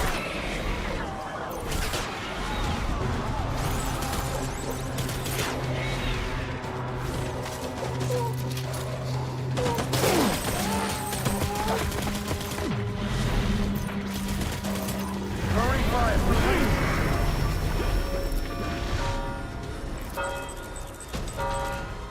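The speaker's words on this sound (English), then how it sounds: "Taking fire! Open fire!" Rapid bursts of gunfire and clattering shots fill a video game battle, loud and dense throughout, with music-like tones and shouted voices mixed into the chaos.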